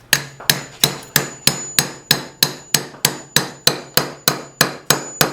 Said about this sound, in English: Hammer, rubber mallet.